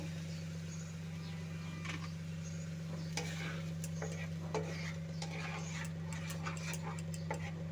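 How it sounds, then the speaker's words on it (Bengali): Spice paste for a vegetarian potato and pointed gourd curry is sautéed in a pan, with soft sizzling and occasional light stirring clicks over a constant low electrical hum. "ভালোভাবে মশলাটা কষিয়ে নেব"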